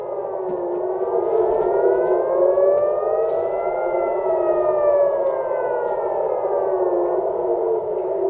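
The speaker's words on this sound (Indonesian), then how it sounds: "Suara sirine di Tel Aviv terus berbunyi saat rudal-rudal Iran memasuki wilayah udara Israel." A civil defense air raid siren wails over Tel Aviv during an Iranian missile attack, a steady, distant rising-and-falling tone that sounds alone and continuously throughout.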